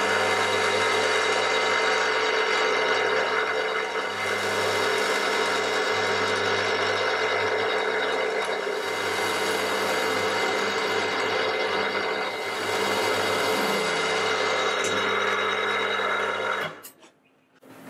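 Centre drill held in a lathe chuck drilling a metal vice stop, a steady whirring machine hum with a faint rhythmic pulse, running continuously before spinning down and stopping at the end.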